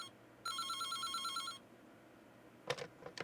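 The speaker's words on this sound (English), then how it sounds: "the phone rang" Telephone in the video game Reverse: 1999 rings once with a rapid electronic trill lasting about a second, fairly faint, followed by a few soft clicks and knocks.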